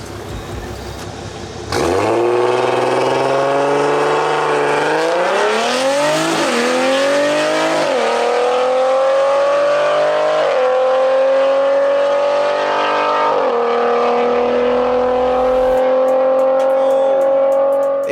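A big-turbo BMW F30 340i launches and accelerates hard, its engine roaring loud and close as the pitch climbs steadily through several gear shifts over about sixteen seconds.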